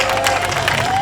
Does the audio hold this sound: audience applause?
yes